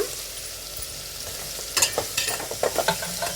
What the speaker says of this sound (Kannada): ಒಂದು ಮೀಡಿಯಮ್ ಫ್ಲೇಮ್ನಲ್ಲಿ 1 ರಿಂದ 2 ನಿಮಿಷ ಬಾಡಿಸ್ಕೊಳ್ಳಿ, ಫ್ರೈ ಮಾಡ್ಕೊಳ್ಳಿ.